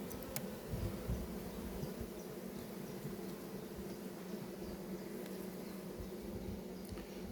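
A steady, dense insect buzz of many Carniolan honeybees at a hive hums continuously, fairly close, with no voices over it.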